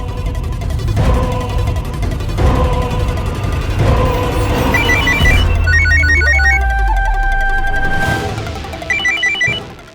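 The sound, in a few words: phone call ringing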